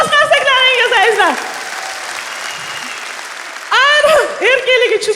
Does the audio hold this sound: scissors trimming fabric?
no